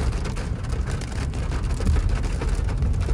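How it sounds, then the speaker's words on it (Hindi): Steady rain pours down during sunshine, a dense even hiss of drops hitting surfaces close by, continuous and fairly loud with no voices. "बारिश पड़ गई है बिना मौसम के"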